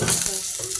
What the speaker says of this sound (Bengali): আমি সিম্পলি ভেজে নেব।